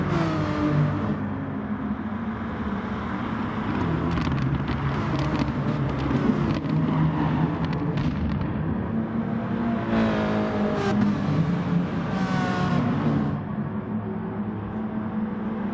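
Audi TT race car engines in a racing game at the Alsace village track, a continuous close engine drone with repeated revving and gear-change surges.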